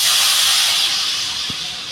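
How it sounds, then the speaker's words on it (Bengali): Water poured into a hot kadai holding ground coriander, cumin and chilli powder bursts into a loud close hiss of steam that slowly fades over two seconds. "আমি এবার কড়াইটাতে জল ঢেলে দেবো"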